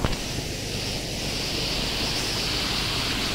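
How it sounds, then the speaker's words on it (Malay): Flowing water from a big river at a riverside campsite in Perak, a constant rushing hiss that stays level throughout, close and alone without talk. "Oh, besar lah sungai dia."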